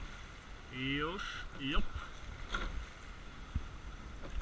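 An eight-oar rowing boat moves through the water during training at Bled, with a soft steady rush of water and wind, a few light knocks, and a coxswain's calls close to the microphone.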